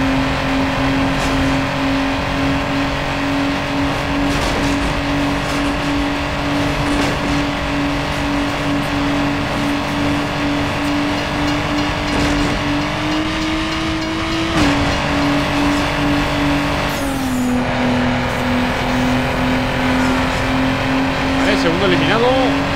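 A steady race car engine drone in Need for Speed Underground 2, sustained revving hum with pitch shifts as gears change, the Mazda RX-7 among the rivals, under a voice talking.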